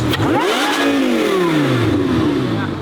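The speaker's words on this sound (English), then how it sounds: "It's because it's valved exhaust. The valves are closed." A car engine with valved exhaust, valves closed, revs loudly and close, pitch sweeping up and down in smooth, muffled surges with a deep, throaty tone.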